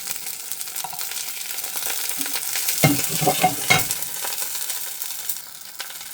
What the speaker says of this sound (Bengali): তাড়াতাড়ি করে ডিম ভাজবো একটা